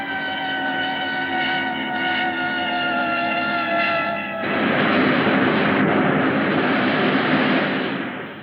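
Aircraft engine during a steep power dive, a loud steady droning roar with layered tones that swells into a broader rushing blast halfway through, continuous and close with no talk.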